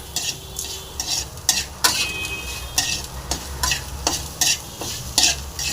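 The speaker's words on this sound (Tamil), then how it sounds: "சூப்பராக ஃப்ரை ஆகிடுச்சி" Bitter gourd pieces fry noisily in a pan while being stirred, with repeated scraping strokes of a spatula breaking through a constant close sizzle in an irregular rhythm.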